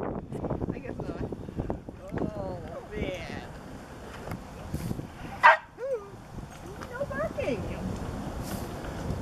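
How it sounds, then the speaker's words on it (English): A dog barks repeatedly in short bursts at a dog beach, fairly close, with wind noise and a person talking intermittently over it. "Otis, what's the barking all about"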